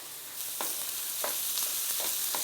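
Finely chopped carrots sizzle steadily in a hot pan for pasta, a soft continuous frying hiss broken by a few light stirring scrapes.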